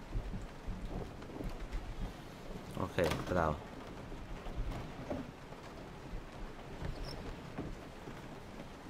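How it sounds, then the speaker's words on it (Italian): Soft, steady rainfall with a low rumble of thunder in the horror video game Resident Evil 7, quiet and continuous beneath a person talking, with one louder burst around the middle. "Piove."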